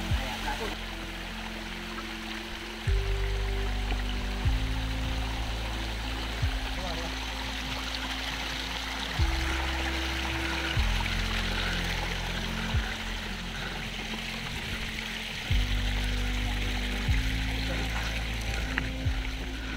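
A mountain stream flows along the Prabalgad fort trail with a steady, broad rushing wash throughout, while low droning tones step and shift underneath.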